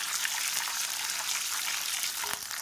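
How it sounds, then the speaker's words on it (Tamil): Small onions and garlic sautéing in a pan with a steady, bright sizzle that runs continuously and close, with occasional small pops and no talking. "வெங்காயம் நல்லா வதங்கிடுச்சு."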